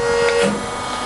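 Acra Bend XP1137 used press brake with its ram lowering under manual control, a steady mechanical hum and whir with a brief tonal whine, fairly loud and close, settling to a lower drone as the stroke ends.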